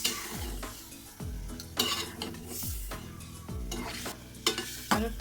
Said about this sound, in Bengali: মরিচ মশলাটুকু আর একটু ভালো করে কষিয়ে নিল দিয়ে দিলাম চিংড়ি মাছ